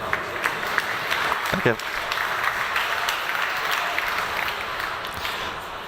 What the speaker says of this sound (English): Thank you very much. Big applause.